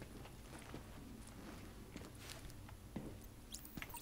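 Footsteps from the video game The Division pad along softly in a light, uneven patter, faint and close with a few sharper taps, and no voices.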